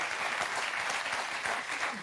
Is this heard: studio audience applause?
yes